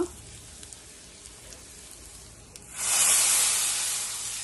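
A hot tempering of mustard seeds, cumin, dried red chillies and asafoetida is poured into a buttermilk curry, erupting into a sudden loud hiss and sizzle that lingers and slowly settles after a quiet start.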